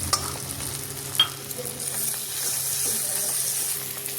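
Cabbage bharta being stir-fried in a pan with mustard oil, dried red chilli and garlic: a continuous close sizzle with scraping stirring strokes and small clinks, fairly soft overall.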